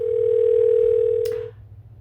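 A steady telephone tone sounds during a call, loud and continuous for about a second and a half before cutting off with a brief click, leaving quiet line noise.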